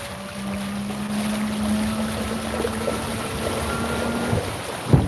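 An electric motor on a kayak runs at three-quarter throttle out on a lake, a steady mid-pitched whine held for about four seconds before cutting off, over moderate wind and water noise.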